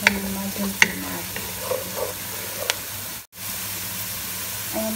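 Thyme frying in a pan until it browns gives a steady close sizzle with crackly hiss, broken by a few sharp clicks of stirring and a brief pause, no talking.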